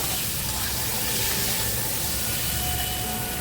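Eggs go into hot oil with a spiced masala base, giving a steady, loud, even sizzle and hiss that runs without a break and with no talk over it.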